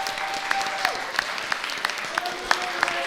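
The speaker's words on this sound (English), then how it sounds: "Can we give them a huge round of applause?" An audience applauds film students at a community Taskmaster-style event in Sedro-Woolley, a fairly quiet, sparse round of clapping with distinct individual claps spread across a few seconds, no voices over it.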